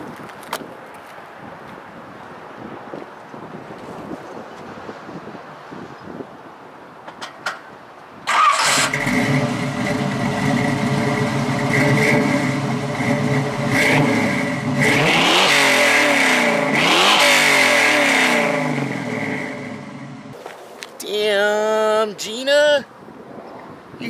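A 1968 Camaro restomod cranks and fires up loudly after a quiet stretch, then idles with a deep rumble and revs in two surging climbs before settling; someone speaks near the end.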